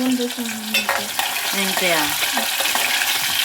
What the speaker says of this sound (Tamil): சின்ன வெங்காயம் நல்லா வதங்கட்டும் அது கூட கருவேப்பிலை சேர்த்துக்கலாம்